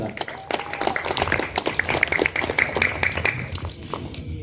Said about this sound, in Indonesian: Beri tepuk tangannya kepada Pagar Nusa.